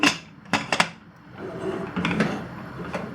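A stovetop pressure cooker lid being fitted and closed over a pot, with a few sharp metallic clanks and knocks up close, followed by softer scraping and handling noises.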